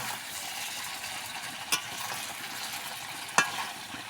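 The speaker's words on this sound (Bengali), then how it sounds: "চলো ভালো করে কষিয়ে নিই তো দেখো মাংসটা কিন্তু আমার বেশ কষানো হয়ে গেছে" Pieces of country chicken for a red curry are stir-fried in oil in a pan, making a constant hissing sizzle broken by two sharp clinks of the spatula against the pan.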